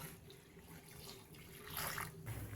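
Water runs steadily into a cooking pan of ash gourd for a couple of seconds, a soft close splashing and gurgling that gets slightly louder near the end.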